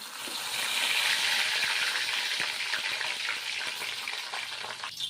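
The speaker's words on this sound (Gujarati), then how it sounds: "તો આપણું તેલ ગરમ થઈ ગયું છે. સૌપ્રથમ કેપ્સિકમને તળી લેશું." Capsicum sizzles and crackles steadily in hot oil, loud and close, with the frying fading slightly near the end.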